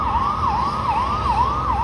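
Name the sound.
fire engine siren passing through village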